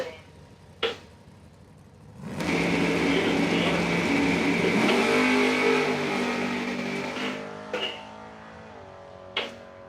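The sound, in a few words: race car accelerating down drag strip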